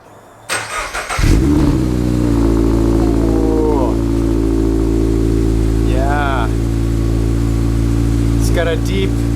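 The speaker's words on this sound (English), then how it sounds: "a cold start of my Yonaka exhaust." A Toyota GR86 with a Yonaka catback exhaust cold-starts: the engine cranks and catches, then settles into a steady, deep, loud idle with a low rumbling exhaust note that continues throughout.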